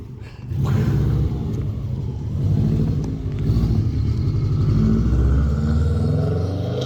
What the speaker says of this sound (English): The engine sounds a lot healthier